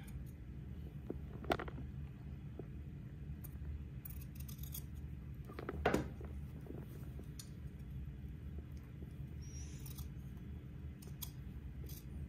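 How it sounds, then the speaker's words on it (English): Fabric-cutting scissors snip through cloth right beside a line of zigzag stitching in a run of quiet, close cuts, with a couple of sharper snips standing out over soft room noise. "Okay, now using my fabric cutting scissors, I'm going to cut right next to the zigzag line without cutting the zigzag."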